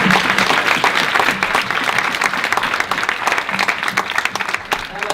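An audience gives a panel a big round of applause at a talk about young change makers and the ocean, loud dense clapping sustained for about five seconds, with some voices mixed into the crowd.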